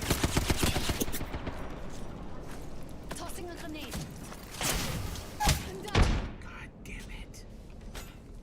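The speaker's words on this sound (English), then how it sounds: "Tossing a grenade." Grenade tossed and detonating in a first-person shooter video game, heavy thuds and bursts of gunfire amid a busy battle mix, with low voices under the action.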